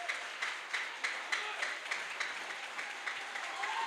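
A church congregation applauding for Jesus, rhythmic group clapping in a steady beat of repeated claps, moderately loud and continuous with reverberant room tone.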